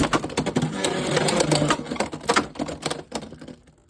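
Hasbro Beyblade X spinning tops clashing in a stadium, Scythe Incendio bursting apart, heard as rapid close clattering impacts and rattles that taper off into a few final knocks.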